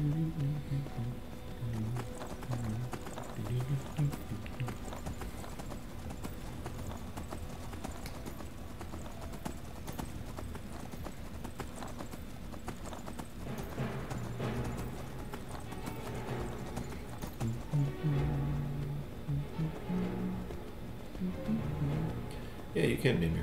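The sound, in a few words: horse hooves clip-clopping in Skyrim video game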